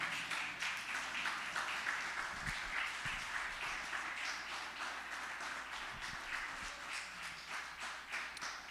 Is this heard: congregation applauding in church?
yes